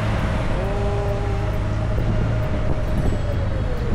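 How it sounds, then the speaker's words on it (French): Riding a motorcycle through Broadway traffic in New York City, a constant roar of engine and street noise with passing vehicles and a faint high whine, steady and loud, with no talking. "On est en plein cœur de Broadway en moto."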